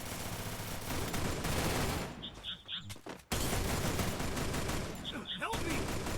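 Dense bursts of gunfire from the Free Fire mobile battle game fill the clip, rattling loud and near with brief gaps and a sharp pause near the middle, while a voice talks underneath.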